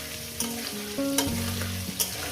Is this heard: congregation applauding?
no